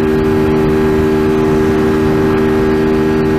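An Apache RTR 200 motorcycle accelerates flat out on a highway, its engine holding a loud, steady high-revving drone with continuous wind rush and no pauses.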